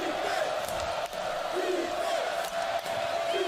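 Football stadium crowd roaring on third down at an Old Dominion vs Bowling Green college game, a loud continuous wall of cheering and yelling that swells slightly, steady throughout.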